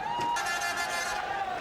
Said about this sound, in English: a big sigh of relief and a big cheer for Ganguly, who's brought up his half-century